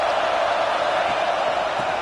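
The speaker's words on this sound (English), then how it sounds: "This crowd trying to make life miserable for this offense." A packed stadium crowd at a Michigan versus Texas college football game produces a dense, steady roar with no breaks, loud throughout and heard from within the stands.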